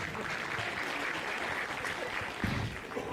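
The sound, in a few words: audience applause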